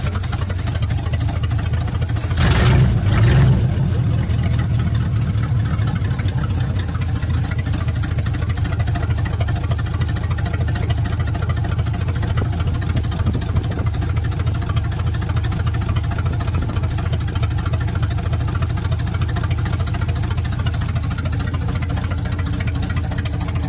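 A 1955 engine running steadily near the end of its fuel, a close, constant low idling rumble with a slight knock, holding an even level throughout after a brief louder burst near the start.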